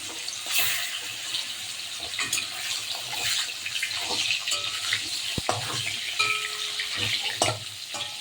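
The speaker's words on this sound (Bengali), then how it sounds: "মাছগুলি একটু ভাজবো সুন্দর করে।" Fish pieces fry in hot oil in a kadai, a moderate crackling sizzle broken by clinks and stirring scrapes, with no talk.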